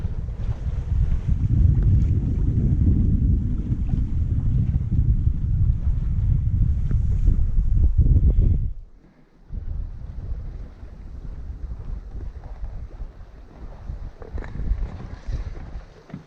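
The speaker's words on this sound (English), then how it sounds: "I've reefed down the sails a bit because around these bends and hills and so on, you really get some gusts coming off there at times." A reefed sailboat heels through gusty wind on a fjord, with strong roaring wind buffeting the microphone and rushing water along the hull; the gust drops briefly midway, then wind and splashing return.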